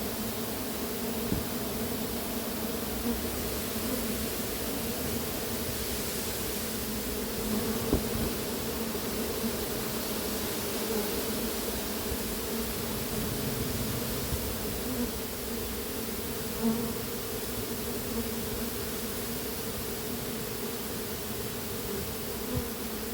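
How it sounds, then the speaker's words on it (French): A swarm of honeybees from a runaway swarm being recovered in Ozoir-la-Ferrière buzzes around a hive, a steady, dense hum that stays constant throughout, with individual bees occasionally passing close. "Il y a pas mal d'abeilles là dans le ciel qui étaient en train de partir."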